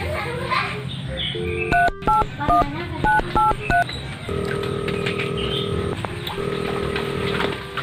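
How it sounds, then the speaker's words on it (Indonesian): A telephone in a Sundanese comedy film plays a quick series of keypad dialing tones, followed by long, repeating ringback tones over a busy, noisy room background. "Telepon si Idet gitu nya"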